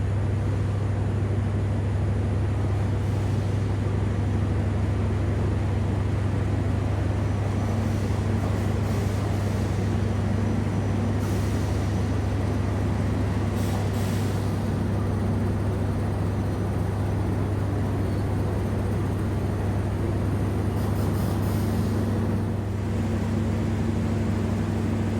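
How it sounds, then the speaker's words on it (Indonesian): Two passenger trains, the Malabar and the Lodaya, pull out of Gombong station in Indonesia: a constant low engine drone with steady rumble and faint higher whines throughout, heard from on board or close by. "Kereta api Malabar berangkat, kereta api Lodaya juga berangkat ya."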